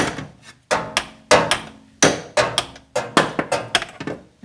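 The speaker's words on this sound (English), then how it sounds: "Go ahead and smack it with the old brass hammer." A brass hammer strikes a metal part on a 1995 Ford F-150 repeatedly, about a dozen sharp, ringing blows in uneven bursts, close and loud with brief pauses between.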